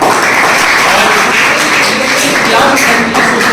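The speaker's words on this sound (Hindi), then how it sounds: "बहुत बड़े भैया के लिए तालियां" Loud, dense applause fills a school gathering during a practical exam session, a steady wash of many hands clapping close by with no clear gaps throughout.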